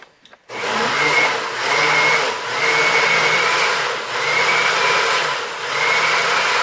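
An electric mixer whirs steadily while blending ingredients, its loud motor drone pulsing in four or five slow waves as the beaters work the mixture, with a brief clatter just before it starts.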